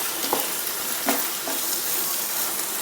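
Pepper chicken sizzles steadily as it dry-fries in a pan, with a few soft scrapes of stirring breaking through the loud, continuous crackle. No one speaks.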